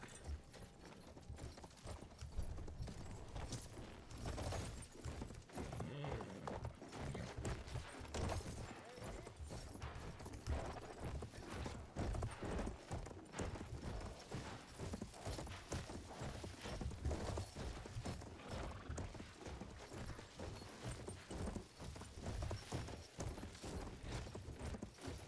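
Steady rhythmic clip-clop of horse hooves galloping in Battlefield 1, continuous and fairly close, with occasional background game noises and no talking.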